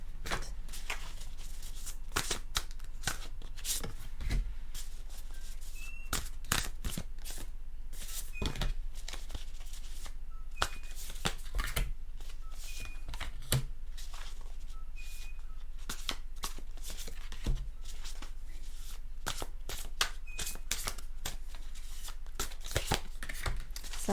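Tarot cards are shuffled by hand at close range, giving a long run of soft, irregular riffles, slides and light taps with no talking.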